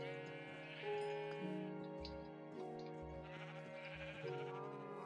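Several sheep bleat in the video game Minecraft, a string of overlapping wavering baas that come and go over about five seconds at moderate volume, with no talk.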